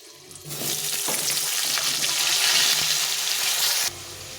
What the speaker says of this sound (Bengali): তো আলুটাকে আমি প্রথমে একটু ভেজে নেব